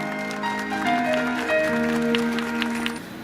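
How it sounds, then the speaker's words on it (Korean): Audience members at a traffic law and safety campaign event applaud after a government minister is introduced, steady moderate clapping over a sustained tonal hum, ending abruptly near the close. "박수 부탁드리겠습니다."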